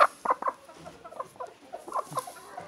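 Hint tavuğu chickens cluck nearby in a series of short, soft clucks and throaty calls, sparse and irregular, with no talking.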